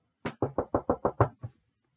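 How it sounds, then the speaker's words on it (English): Seven firm, evenly spaced knocks on big shut gates, one blow after another, then a softer eighth, close and loud with no talk. "the servant of the emperor had to knock on the big gates."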